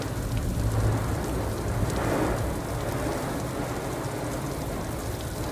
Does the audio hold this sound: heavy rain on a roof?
yes